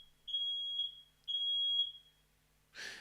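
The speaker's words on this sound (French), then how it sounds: "alarme incendie" A smoke or fire alarm sounds loud, high-pitched electronic beeps in two pairs, then gives way to a brief burst of broad noise.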